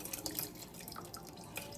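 Soaked, rinsed rice with its water poured into a pot, a steady broadband wash of liquid with small splashy bursts running throughout, close and fairly quiet.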